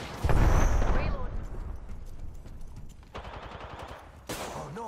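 Gunfire from an enemy squad in Apex Legends crackles in rapid bursts, with a loud opening volley, a lull, then more rattling shots. A voice talks over the fighting.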